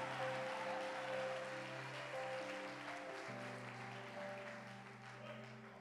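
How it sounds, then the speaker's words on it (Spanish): A church congregation claps along with sustained organ or keyboard chords, a steady wash of applause under held tones that fades slightly toward the end. "Aplaude a Dios ahora."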